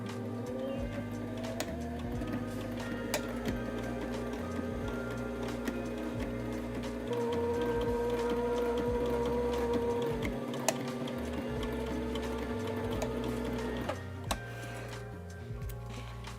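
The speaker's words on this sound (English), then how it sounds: "we're gonna sew a line of stitches, locking the beginning and end of our stitches" A sewing machine runs a continuous line of stitches through fabric, with brief stops to lock the start and end of the seam, a steady close mechanical hum and ticking throughout.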